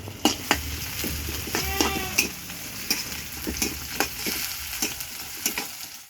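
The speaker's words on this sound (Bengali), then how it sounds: "এবার আমি পাঁচ ফোড়ন দেব।" Panch phoron spices crackle in hot oil with onions frying for a winter vegetable dish, a steady close sizzle broken by repeated sharp pops and stirring scrapes.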